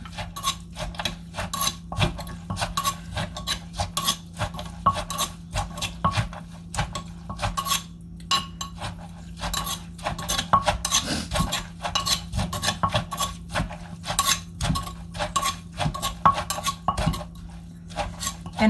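Papaya salad ingredients being mixed, with rapid repeated rasping and scraping strokes of a utensil against a bowl in a steady, busy rhythm throughout, close up and with no voices.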